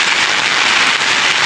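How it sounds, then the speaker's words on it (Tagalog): Heavy rain pours steadily during a downpour in Potrero, a dense, loud, continuous hiss of drops on surfaces with no voices. "Hindi pati makapagtrabaho ng maayos pag yung ganitong laging umuulan."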